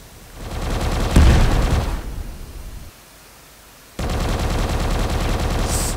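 Laser gun firing in a video game, a harsh buzzing stream of rapid pulses that swells, drops away to near quiet for about a second, then resumes steadily.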